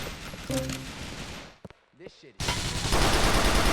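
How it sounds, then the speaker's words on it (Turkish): Police gunfire in the video game GTA 4: The Lost and Damned, a dense loud burst of rapid shots, a brief near-silent gap broken by a couple of sharp cracks, then sustained heavy firing. "Oğlum ne polisler ne kadar pis vuruyor."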